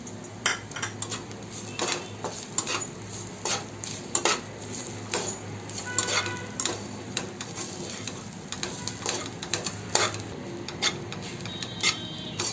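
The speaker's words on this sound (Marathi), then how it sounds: "आता आपण सुकं खोबरं पण यात टाकून थोडं भाजून घेऊया" Dry coconut is roasted in a pan and stirred with a utensil, giving repeated close scraping and clinking strokes over a faint sizzle in an uneven, busy rhythm.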